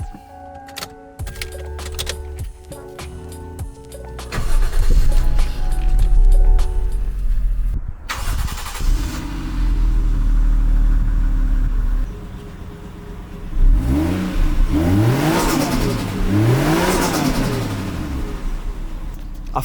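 A Nissan Silvia S14 starts up, then its engine idles and revs in several rising and falling bursts, loud and close, with mechanical clicks before the start.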